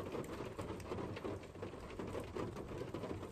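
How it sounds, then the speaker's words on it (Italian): Hail beginning to fall in a storm outdoors at a castle in Romania, a dense steady clatter of small hits on surfaces, continuous and fairly loud with no voices. "Sta incominciando a grandinarmi"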